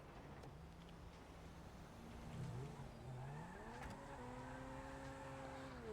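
A car in the GTA V video game pulls away, its engine revving upward through rising gear tones, continuous and fairly close, with no talk.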